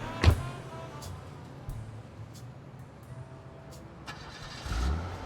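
A car engine starts in the video game Blacksad: Under the Skin, a short turnover burst followed by a steady low idle rumble and a fresh swell near the end, with faint voice-like sounds underneath.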